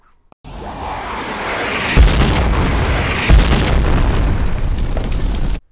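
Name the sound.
toy missiles accidentally going off, explosion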